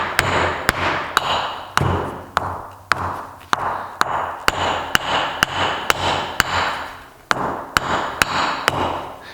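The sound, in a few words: axe striking the toe of an indestructible shoe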